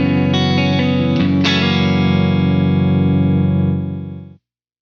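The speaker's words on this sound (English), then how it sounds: "Compressor sounds like this." Electric guitar through a compressor pedal, clean 80s-style tone: a few picked notes and a strummed chord ring out evenly sustained and loud, then the sound fades and cuts to silence near the end.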